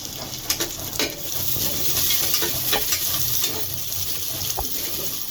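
Onion frying in mustard oil in a pan, a steady soft sizzle with scattered light crackles and clicks, fairly quiet and with no talking.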